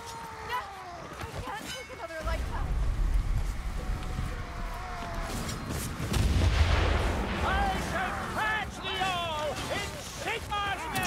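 Heavy explosions in the game Warhammer Vermintide, with deep booming blasts arriving around the middle, mixed with game sounds and voices talking over them.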